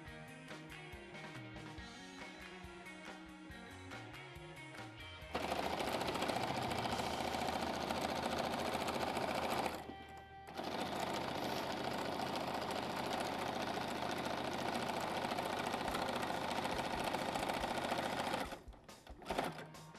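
Sewing machine stitching all the way around a back cover, a steady loud mechanical whirr running in two long bursts with a brief pause between, after quieter intermittent stitching at the start.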